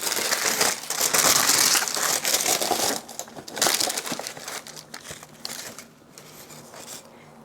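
Wrapping paper crinkles and crumples loudly up close as designer shoes are unboxed, with bursts of rustling that ease off into quieter, sparser handling near the end.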